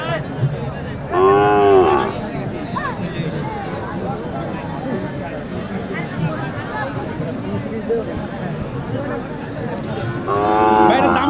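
Heifer cattle at a busy cattle market in Naogaon, with two clear moos near the start and end, surrounded by steady crowd babble and people talking throughout.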